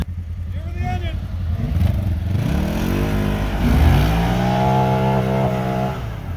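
A Honda off-road vehicle engine running in spring snow, revving up and down with a rising and falling drone, fairly close, while people talk over it.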